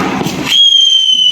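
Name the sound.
firecracker bursting, new kind of Diwali firecracker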